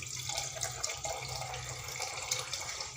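Water runs steadily from a kitchen tap, a soft, continuous splashing and trickle heard close by and alone.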